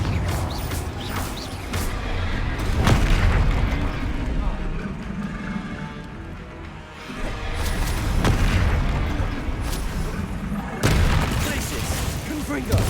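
Booming explosive spell blasts from the Confringo spell in the video game Hogwarts Legacy during a dragon fighting ring battle, several heavy rumbling bursts rising and fading over a dense backdrop of combat noise.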